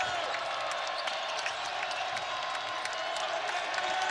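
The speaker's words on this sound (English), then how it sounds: "Crowd trying to make their presence known here." Crowd in a college basketball arena during a Richmond vs Northern Iowa men's game, a sustained roar of cheering and clapping with scattered whoops and claps at moderate distance.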